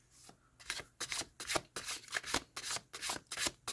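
Rapid riffle-shuffling of a linen-textured oracle card deck, several brisk bursts of flapping card edges in quick succession, close up with no talking.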